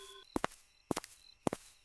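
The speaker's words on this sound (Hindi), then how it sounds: "उस गहरे सन्नाटे में उनके कदमों की आहट साफ सुनाई दे रही थी।" Footsteps in near silence, three distinct paired steps spaced evenly about half a second apart, close and clear against a quiet background with a faint tone at the start.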